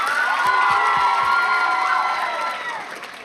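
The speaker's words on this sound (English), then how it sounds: "Give him a round of applause, everyone." An audience at a church youth event cheers and shouts, with a few sharp claps near the start, a loud crowd roar that fades somewhat toward the end.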